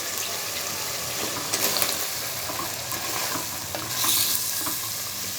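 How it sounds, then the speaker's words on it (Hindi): Eggplant pieces stirred into cooked masala in a handi, with a steady close frying hiss and scraping spoon strokes throughout, briefly louder in bursts. "बैंगन को अच्छी तरह मसाले के साथ मिक्स कर लेंगे और इसको तकरीबन 5 मिनट के लिए पकाएंगे।"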